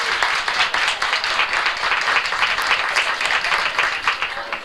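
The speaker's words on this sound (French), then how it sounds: "On applaudit." An audience applauds steadily in a concert hall, dense and loud, sustained throughout without pause and with no talk over it.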